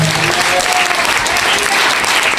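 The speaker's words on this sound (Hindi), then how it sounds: "सेलिब्रेट करेंगे, जोरदार ताली बजाएंगे।" Loud, sustained applause from a church congregation during a Hindi-language sermon, a dense wash of many hands clapping together that fills the whole stretch without pause.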